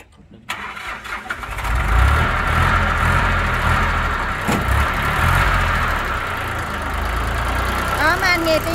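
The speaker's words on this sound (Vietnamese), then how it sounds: "Đó, mấy anh nghe tiếng máy của nó nè" Diesel engine of an 8-wheel, four-axle-drive mini dump truck with a three-way tipping bed starts up and settles into a steady, loud idle close by, with a rough low rumble throughout and a brief squeal near the end.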